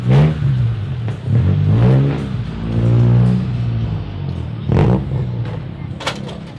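A Honda car engine revs repeatedly, rising and falling in loud droning sweeps, with a couple of sharp pops near the end.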